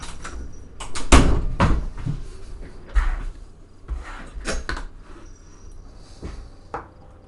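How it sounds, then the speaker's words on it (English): A door banging shut at home, a loud heavy thud followed by several softer knocks and rattles of the door settling, heard close with no speech. "Sorry, that was me throwing the cat out the door."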